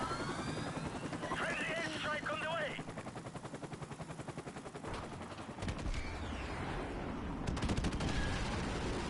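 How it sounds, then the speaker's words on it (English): Helicopter rotor chop from a Modern Warfare Remastered match runs throughout, steady and fairly loud, mixed with bursts of machine-gun fire and other game effects while a player talks over it. "There goes my heli."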